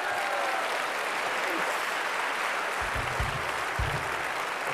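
Audience at the Melodifestivalen 1992 Swedish song contest applauds in a steady, dense wash of clapping that fills the whole stretch evenly, with a few low thumps near the end.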